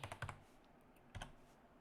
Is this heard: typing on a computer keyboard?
yes